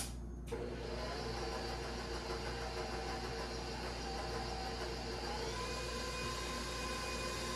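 A stand mixer switches on and runs steadily, kneading pizza dough with a constant mechanical whir and hum that stays even and unbroken from start to finish.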